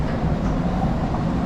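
A London Underground Metropolitan line train rumbles at a station with a steady, dense, close-up roar of wheels and motor.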